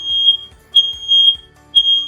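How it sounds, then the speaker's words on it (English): Loud, piercing electronic beeps from a smoke alarm being tested in a student residence sound in a regular rhythm, about three sharp chirps spaced roughly a second apart. "It'll beep. That is your smoke alarm beep."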